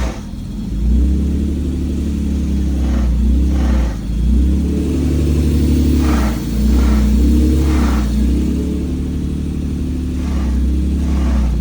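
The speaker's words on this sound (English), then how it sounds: "as soon as I push the clutch pedal in, it just makes that grinding sound" A Honda NSX, left neglected for eight months, runs with a deep idling rumble and recurring harsh grinding bursts as the clutch is pressed, loud and close with no talk.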